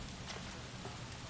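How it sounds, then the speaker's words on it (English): Rain falling in the video game L.A. Noire on a rainy morning, a faint, steady hiss of drops with soft, scattered patter and no voices. "It is a rainy morning for Phelps."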